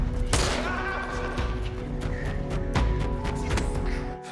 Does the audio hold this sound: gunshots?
yes